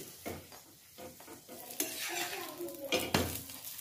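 A paratha fries in refined oil on a pan, with soft sizzling, the scrape and clink of a spatula turning it, and a few sharper metallic taps, all fairly quiet.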